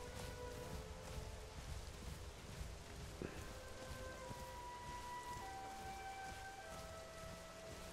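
Steady rain in the video game The Isle hisses continuously over a low rumble, with faint tonal hums and a brief tap standing out against the constant downpour.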